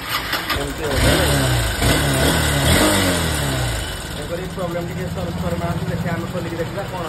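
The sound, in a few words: vehicle engine revving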